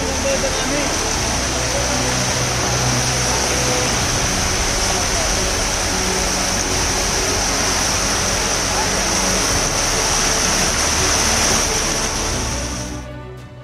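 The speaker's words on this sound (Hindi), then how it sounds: "क्योंकि पानी का बहाव बता रहा है कि आगे जाने में बड़ा खतरा हो सकता है।" Floodwater pours through a flooded Mumbai street during heavy rain, a loud, unbroken rushing roar that holds steady for several seconds before easing at the end.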